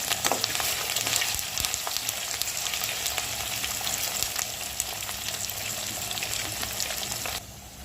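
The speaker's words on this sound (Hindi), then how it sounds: "थोड़ा आलू को हम इसमें पका लेंगे।" Diced potatoes fry in a pan for poha, giving a steady, close, fairly loud sizzle with small crackles throughout that eases slightly near the end; no voices.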